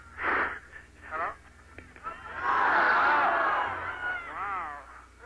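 A large crowd in Portland cheers and shouts over a phone or radio link, swelling into a loud sustained roar in the middle, with separate bursts of yelling before and after.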